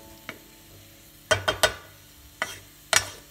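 Ingredients for varutharacha sambar, roasting in a hot pan with the flame turned off, are stirred with sharp, close clicks and scrapes of a spoon that come in uneven bursts over a quiet hiss.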